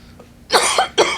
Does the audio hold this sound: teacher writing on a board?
no